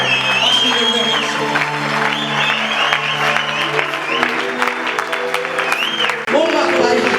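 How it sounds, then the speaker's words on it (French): Church congregation cheering and applauding for God, loud clapping and shouts mixed with sustained organ or keyboard tones and voices, continuing for several seconds with a brief dip near the end. "Avec les acclamations, est-ce qu'on peut se tenir debout pour Dieu?"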